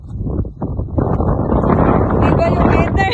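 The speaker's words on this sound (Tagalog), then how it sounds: "Lumakas yung hangin." Strong gusting wind on a mountain ridge hike at Dog Teeth, Kau Nga Ling, roars and buffets the microphone in a loud, continuous rush, with voices talking underneath.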